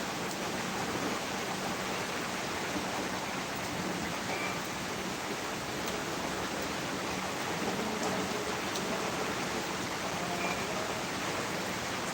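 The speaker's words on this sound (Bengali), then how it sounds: "প্রচুর পরিমাণে বৃষ্টি শুরু হচ্ছে" Heavy rain falls steadily and loudly, a dense unbroken hiss of drops that holds even from start to end with no voices.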